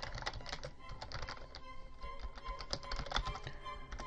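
Steady typing on a computer keyboard while entering a Cisco router command, a quick run of soft key clicks at close range, fairly quiet, no talk.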